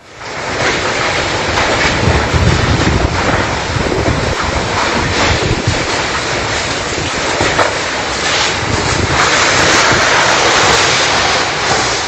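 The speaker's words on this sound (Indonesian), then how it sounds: "Detik-detik terjangan puting beliung direkam oleh warga." Violent tornado winds roar nonstop as a whirlwind batters residential housing in Sekupang, Batam, Indonesia, a loud, dense rush of gusts and turbulence buffeting the microphone for the whole stretch.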